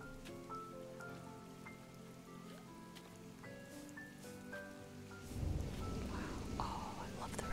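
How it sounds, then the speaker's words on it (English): Rain patters steadily in the cozy life-sim game Coral Isle, a soft continuous hiss beneath gentle plucked game music, swelling louder and closer toward the end, with quiet talk over it. "Oh, I love the rain sound."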